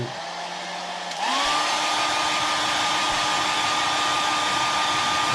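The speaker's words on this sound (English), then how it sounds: "And then I'm going to take my hair dryer again." A hair dryer, used to dry acrylic paint on a carved face, switches on after a quiet hum and keeps running with a steady, loud whirring whine.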